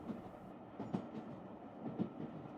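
Train wheels rolling on crystal tracks as the train slows toward a city railway station, a soft, quiet rumble with faint rhythmic clicks recurring about once a second.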